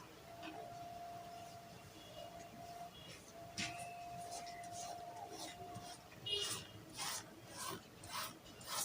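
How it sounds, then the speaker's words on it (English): Pencil or chalk strokes scrape across dress fabric for a Caribbean gypsy gown in short raspy bursts, some longer drawn lines and quick repeated marks near the end, faint and close, with a voice talking now and then. "I'll just go ahead and sketch out this to this fabric"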